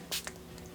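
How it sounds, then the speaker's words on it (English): Makeup setting spray from a bottle gives a short, sharp hiss close up, followed by a second fainter burst, in a quiet indoor room. "It's a little bit of a harsh spray."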